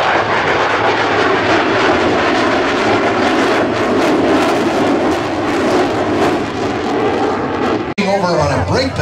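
A vintage A-1 Skyraider Navy warbird flies at an air show, its engine a loud, continuous roar that holds steady for several seconds before cutting off abruptly, with a voice briefly audible at the end.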